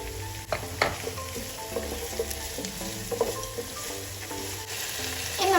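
Tomato, ginger and garlic paste with green chilli frying in a pan gives a steady close sizzle with crackles, stirring and light utensil clinks, and no one speaks.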